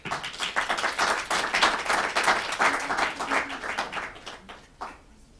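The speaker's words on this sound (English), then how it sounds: "thank you for clapping" Audience applause at a Wolverhampton business conference, following the introduction of a councillor, steady dense clapping across the whole stretch that thins and fades near the end.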